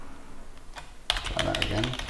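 Keystrokes on a computer keyboard while a password is entered, a burst of quick clicks starting about halfway through, close and fairly clear over faint background noise.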